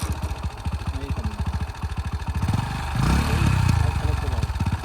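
A motorcycle engine chugs in a steady, rough low rhythm close by, a beginner rider starting out on it, revving up louder and fuller toward the end.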